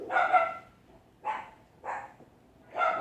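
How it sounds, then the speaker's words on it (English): A dog barks four times at a distance, sharp yelping barks spaced apart with quiet gaps between them. "dogs are freaking out again."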